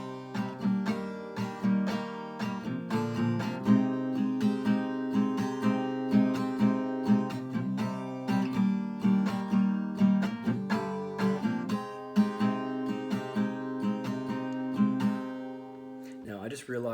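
An acoustic guitar strums the chord progressions of a song, a steady rhythmic pattern ringing close and moderately loud throughout, with a brief pause near the end.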